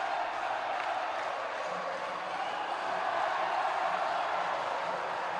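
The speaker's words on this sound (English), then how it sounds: "Pampanga Delta are now cheering." Basketball crowd at a Pampanga Delta versus Parañaque Aces NBL President's Cup game cheering steadily, a dense continuous roar filling the arena at constant loudness.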